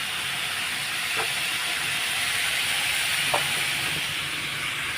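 Potatoes and vegetables for a Malabar spinach and paneer curry fry in a pan with a constant, even hiss, broken by a couple of faint utensil taps.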